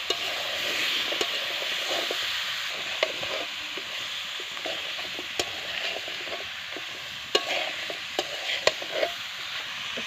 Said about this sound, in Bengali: সিমটা হচ্ছে ভালো করে মশলার সাথে কষানো।